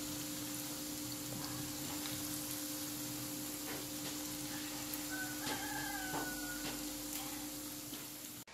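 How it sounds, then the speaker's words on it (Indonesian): Gomak, a dough snack sweetened with brown sugar, frying in oil over medium heat until browned, giving a steady low sizzle with scattered crackling pops under a constant electrical hum. "kita goreng sampai berwarna kecoklatan dengan api sedang ya teman-teman"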